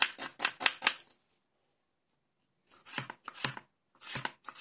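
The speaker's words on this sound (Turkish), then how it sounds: "Soğanları da küp küp doğruyorum." A knife dices onions on a cutting board in two quick bursts of crisp, close taps separated by a short silence.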